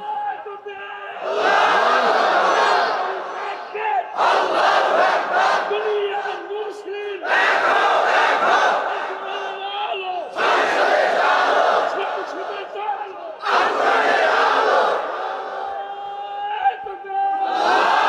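A large crowd at a religious gathering answers a preacher with repeated loud shouts of Allahu Akbar, five or so massed roaring bursts separated by short pauses.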